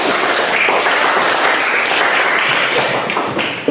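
Applause for a presenting group at the close of a teaching-practice session, a dense, steady wash of many hands clapping close by that holds for nearly four seconds before tapering off.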